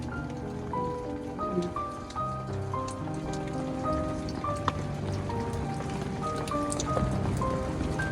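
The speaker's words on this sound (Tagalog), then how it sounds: "Ang lakas ng ulan ngayon." Heavy rain drums steadily on a surface, a dense constant patter with scattered louder drops, alongside faint tonal notes in the background.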